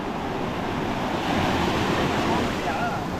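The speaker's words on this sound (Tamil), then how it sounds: "கடல் அலை உங்களுக்கு காட்டுறேன் பாருங்க" Sea waves on the beach at Tiruchendur wash in as a continuous loud roar of surf, mixed with gusty wind buffeting the microphone.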